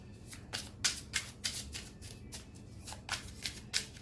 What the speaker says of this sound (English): Sometimes I have to shuffle for a while